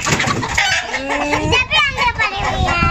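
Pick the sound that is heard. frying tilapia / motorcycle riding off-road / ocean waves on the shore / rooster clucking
rooster clucking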